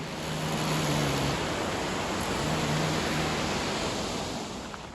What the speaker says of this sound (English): The Middle Falls at Letchworth.